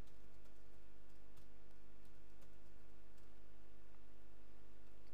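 A password tapped out on a computer keyboard during a PHP and MySQL setup: a short run of soft, quiet key clicks over a faint steady background hum.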